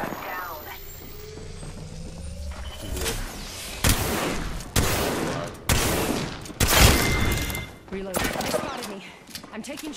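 Video game gunfire during a controller solo-queue match: a string of loud, sharp shot bursts arrives in irregular clusters after a quieter opening, layered over rumbling game ambience and occasional voice chatter.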